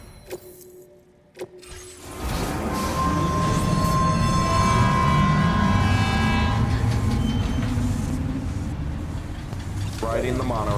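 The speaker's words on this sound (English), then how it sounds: "Riding the monorail." A monorail ride in the video game Death Stranding: a steady, loud rolling rumble with rising whine tones starts after a couple of quiet seconds and continues throughout, with a brief voice near the end.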